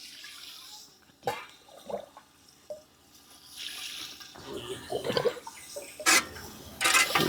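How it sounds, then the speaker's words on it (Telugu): Water is poured into a cooking pot in irregular splashing bursts while making bagara rice, with someone talking over the pouring. "ఇప్పుడు 12 చెంబులు వాటర్ పోసుకున్నానండి."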